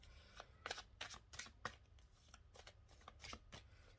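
Tarot cards being shuffled by hand, a quiet series of crisp riffling snaps in uneven bursts, close and alone without talk.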